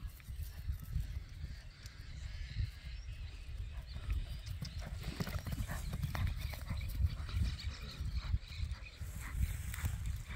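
Hooves of a purebred Criollo horse with no papers clip-clop steadily at a walk, close and continuous with a low rumble of ground noise throughout, and no talk.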